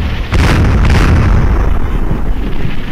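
Mortar explosions in the Combat Mission: Shock Force video game, a loud continuous rumbling blast with heavy low boom and a dense crackling tail, with no talk over it.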